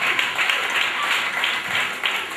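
A church congregation at a Sunday service applauds, a dense, steady wash of clapping that stays loud and continuous throughout.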